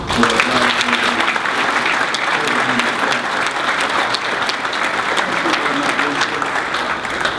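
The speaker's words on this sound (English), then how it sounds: "Let's give Lisa Atkins and Chairman of the Board Buchanan and the Executive Committee and everybody involved with the BCS Foundation a round of applause" A crowd gives a loud, sustained round of applause at a foundation event during a speech. The clapping is thick and continuous, with a few voices faintly mixed in.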